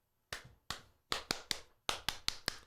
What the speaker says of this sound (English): Come on, clap along with me.